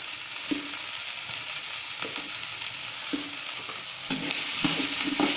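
Green chilies and onions sautéing in a pan for pirandai (adamant creeper) chutney make a constant close sizzle, broken by occasional soft knocks of a spoon stirring, the frying swelling a little louder near the end.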